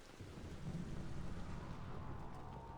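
Steady heavy rain with low rolls of thunder in the video game Mass Effect 2, a dense continuous downpour with a rumbling low end and no voices.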